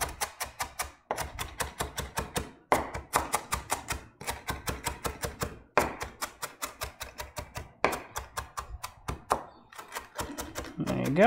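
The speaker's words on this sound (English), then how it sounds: "So you're getting a cross cut on your parsley." Rapid knife chopping of parsley on a cutting board, dense bursts of quick crisp taps in repeated runs with brief pauses, close and distinct.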